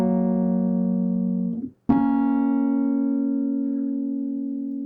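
Sustained piano tones on black-key pentatonic notes sound close together in a consonant cluster, ringing steadily alone, with a brief break before a fresh chord is struck and held.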